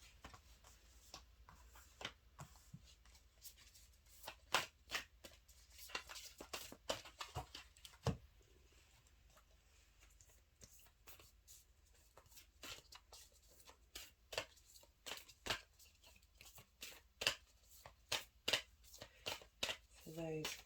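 A tarot deck is shuffled and handled in quiet bursts of crisp card flicks and riffles, irregular and close, across a fairly hushed background.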